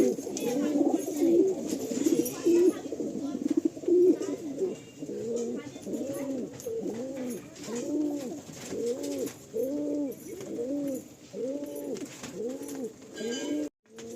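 Pigeons for sale coo in a repeated, rhythmic series of low throaty calls, close and fairly loud, continuing steadily throughout with a faint voice in the background.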